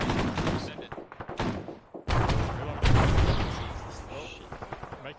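Gunfire in the military video game ARMA 3 comes as repeated loud shots and bursts, followed by dense, heavy firing. Voices talk over the shooting.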